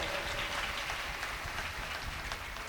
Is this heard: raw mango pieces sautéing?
no